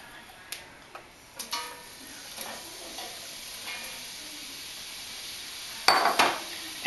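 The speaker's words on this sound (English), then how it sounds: "We're going to add in our onions." Onions frying in vegetable oil over medium heat, a steady low sizzle under scattered clinks and taps of a utensil against the pan, with one louder clatter near the end.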